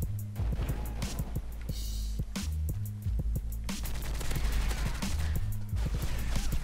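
Rapid bursts of video-game gunfire crackle in fast volleys with short pauses between, loud and dense, heavy low thumps under the shots.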